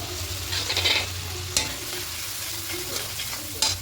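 Ground ginger, coriander, chili, cumin and turmeric fry in a pan with a close, steady sizzle, broken by a few sharp stirring scrapes and taps.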